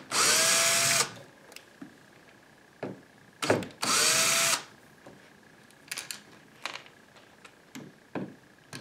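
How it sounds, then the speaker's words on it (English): Two loud bursts of a power drill whirring as it removes door hinge screws, each about a second long, separated by softer clicks and clatter of handling screws nearby. "we're going to take the drill and we're going to remove the screws."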